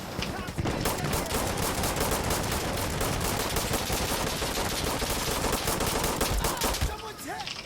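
Dense rapid gunfire from the video game Insurgency Sandstorm during a pistol match, a continuous loud barrage of overlapping shots lasting several seconds before cutting off.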